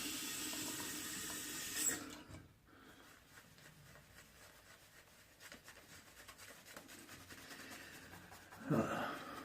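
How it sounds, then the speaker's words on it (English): Water runs from a tap onto the tips of a shaving brush for a couple of seconds, then a quieter stretch of soft rubbing and handling before a brief second burst of running water. "from there I am going to add water"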